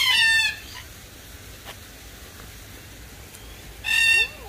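A rooster crows twice at a wildlife park, once at the start and again near the end, with quiet outdoor background in between.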